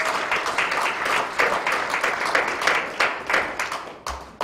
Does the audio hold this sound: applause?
yes